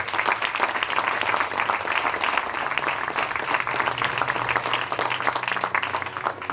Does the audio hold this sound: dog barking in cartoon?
no